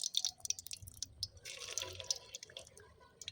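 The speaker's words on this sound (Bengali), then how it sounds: "তেল গরম হয়ে গেছে, ভেজে নেব।" Langcha sweets fry in hot white oil over low heat, giving an uneven, close crackle of small pops and sizzling bursts with quieter gaps between.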